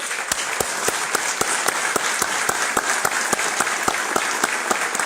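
An audience applauding military veterans at a gathering, steady rhythmic clapping with sharp regular claps standing out above the crowd's sustained applause, with a voice faintly underneath.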